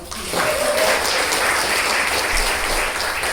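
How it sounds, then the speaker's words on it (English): A live audience claps steadily throughout, a dense, even burst of applause heard close and fairly loud at a cake-decorating presentation. "A round of applause for the flour."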